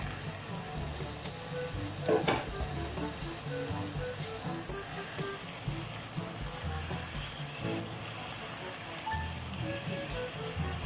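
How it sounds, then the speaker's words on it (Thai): Beef sizzles and crackles steadily in a hot pan as it is stir-fried until cooked for spicy Thai basil beef with habanero chilies, a continuous close hiss with occasional scraping. "ผัดให้เนื้อมันสุกเลยนะครับ"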